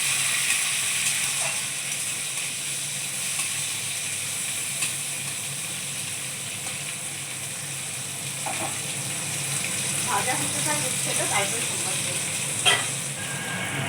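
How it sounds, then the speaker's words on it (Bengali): Bitter gourd frying in a pan, with a loud, continuous sizzle and a few faint stirring clicks toward the end. "এই যে আমার উচ্ছে ভাজা হয়ে গেছে"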